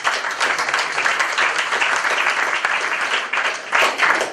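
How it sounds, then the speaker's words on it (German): Loud, sustained applause from an audience at an evening talk on mobile phone health risks in Hauzenberg, a dense steady clapping wash lasting throughout with no voices over it. "Riesen Applaus"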